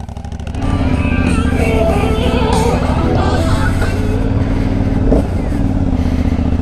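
An Aprilia Shiver 900 motorcycle starts close by, its engine and side-exit exhaust settling into a loud, steady drone as it pulls away under a gentle throttle, with a brief rise in pitch near the end.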